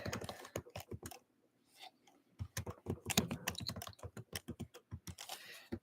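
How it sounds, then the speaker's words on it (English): Rapid, uneven clicking of keys on a computer keyboard, typed in close bursts with brief pauses, heard near and alone. "I'm typing."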